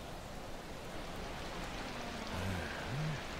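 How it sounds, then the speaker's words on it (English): Steady rain falls in the video game Yakuza 4 as a soft, even hiss throughout, with faint low tones from the game underneath. "Man, it's raining."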